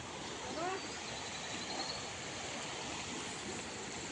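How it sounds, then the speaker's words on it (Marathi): Rainwater after days of heavy rain rushes downhill through an open field, a steady broad roar of flowing water with a faint bird call early on. "आणि हा सगळं उमलाटाचं पाणी आहे त्या खाली जाते बघा किती आहे बघा ते पाणी"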